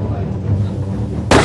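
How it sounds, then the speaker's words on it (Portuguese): A single sharp, loud gunshot at a campsite during a shooting in Norway, bursting out abruptly after a stretch of speech. "Ele atirou em alguém!"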